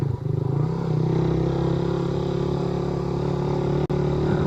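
Motorcycle riding on a road trip in San Miguel, Tarlac, with a steady, droning engine hum and wind noise throughout, no talking.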